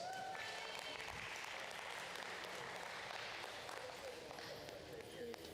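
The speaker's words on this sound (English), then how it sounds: "Let's give her a big round of applause." Audience applause rings out at a county fair and rodeo heifer show, a steady, dense wash of clapping across the arena that holds for several seconds, with faint voices and a few bright tones mixed in.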